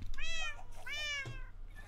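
Two clear meows in a row come from a cat in a modded Minecraft game, close and loud, with a short break between them.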